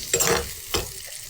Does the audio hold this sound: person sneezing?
no